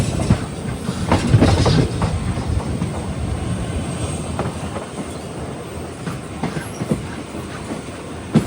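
A passenger train on the Madurai to Rameswaram route rumbles steadily with clickety-clack wheel beats and brief squeals, heard from inside at close range and loudest near the start.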